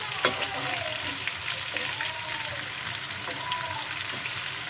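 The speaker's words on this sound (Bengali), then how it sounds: "পেঁয়াজ ভাজির উপরে মাছ দিয়ে দিচ্ছি।" Hilsa fish sizzles steadily as it fries on top of fried onions in a pan, a continuous close crackle and hiss with a few louder pops and the occasional scrape of stirring.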